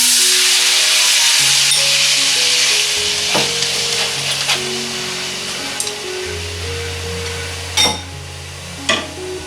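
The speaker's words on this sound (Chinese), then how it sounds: "葱蒜爆香。" Scallions and garlic sizzle in hot oil, a loud, steady, close frying hiss with a few sharp clicks from utensils and a low humming tone underneath.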